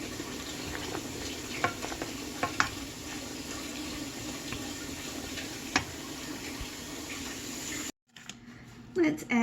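Squash cooking in a pan until soft, a low steady sizzle with occasional light clinks and scrapes, cutting off briefly before resuming more faintly, while a person talks quietly over it.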